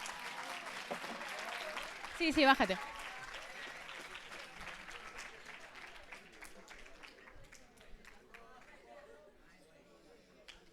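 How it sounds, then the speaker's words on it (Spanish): A science week audience gives a faint round of applause for Marcos, with a brief louder burst and scattered chatter as the clapping trails off. A voice speaks briefly over it. "Un aplauso para Marcos"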